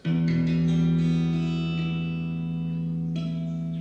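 A classical guitar harmonic rings out with a bell-like, sustained tone that slowly fades, followed by a brief second pluck near the end.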